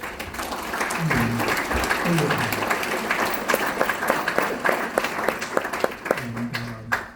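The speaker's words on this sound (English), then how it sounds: "Can you give them a round of applause?" An audience at a mayor's faith-based initiative event gives a round of applause, a steady wash of many hands clapping with scattered individual claps, while voices speak briefly at the start and end.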